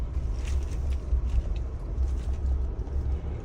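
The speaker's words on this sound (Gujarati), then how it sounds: "અમારા કોમલબેન ફર્સ્ટ ટાઈમ ગાડી ચલાવે છે" A Mahindra Thar off-road SUV driven by a first-time driver gives a steady, deep engine rumble heard from inside the cabin, with faint rattles and bumps over rough ground.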